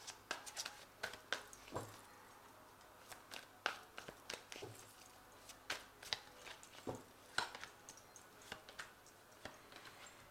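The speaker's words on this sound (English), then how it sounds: "So I'm just going to draw some cards" Tarot cards being shuffled and drawn during a reading, with a quiet run of soft, irregular card slaps, flicks and taps close by, and no talking over them.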